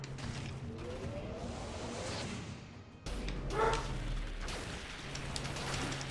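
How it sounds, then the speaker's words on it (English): Dogs bark and yip repeatedly in the background over a steady low hum, with a louder burst of barking near the middle. "Apologies for the dogs barking."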